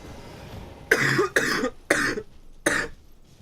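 Four sharp coughs from one person, close and loud, in quick uneven bursts with short pauses between them and no talking.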